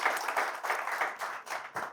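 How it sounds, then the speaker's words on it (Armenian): An audience at a book-related cultural event applauds, steady dense clapping from many hands, fairly close and sustained for a couple of seconds without talk over it. "եկեք ծափարենք։"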